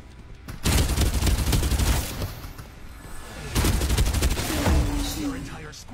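Dense bursts of automatic video game gunfire roar in two sustained volleys, mixed with booms and explosions during an airdrop battle, loud and continuous throughout.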